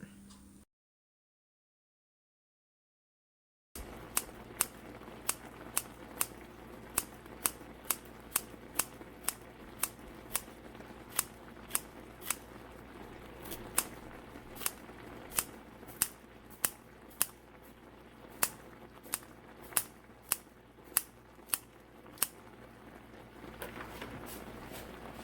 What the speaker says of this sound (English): I'm gonna cut some green onions in it.